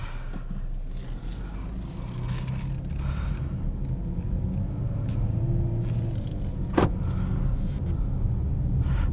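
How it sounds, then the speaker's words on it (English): A 2018 Chrysler 300 Limited with its 3.6 liter Pentastar V6 running, a steady low rumble heard from inside the car that builds slightly, with a brief click midway and no talking. "Tons of power from this V6, and it makes an awesome sound too."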